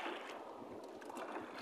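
Strong wind at sea buffets a small fishing boat in rough weather, a steady broadband rush with gusting swells that stays loud and unbroken throughout, with no voices.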